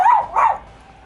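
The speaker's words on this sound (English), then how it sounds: "The dog is barking, and a lot of the times he's barking for nothing." A dog barks twice in quick succession, close and loud, with a short yippy edge, then quiet.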